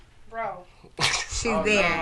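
A sharp, close sneeze bursts out mid-conversation, with people talking just before and after it.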